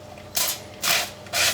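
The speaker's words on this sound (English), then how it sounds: "I'm gonna spray it with a little bit of oil." An oil mister fires three short, even hissing sprays into a preheated air fryer, each burst about a quarter second long, close and fairly loud.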